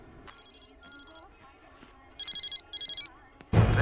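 A phone rings in a Telugu action movie scene with repeated bright electronic trill bursts, faint at first and then louder and closer, under low background sound and ending in a sudden loud noise.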